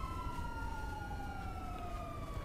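Police car siren in a video game, a steady wailing tone sliding slowly downward, moderately loud over a low rumbling background with no talk.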